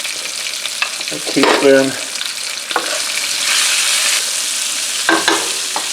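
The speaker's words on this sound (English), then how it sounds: "Stir these. I'll let these cook and render and soften" Potatoes fry and get stirred in a pan for Indonesian shrimp and potato sambal, with a steady sizzle throughout and a few sharp utensil scrapes. A brief spoken remark sits partway through.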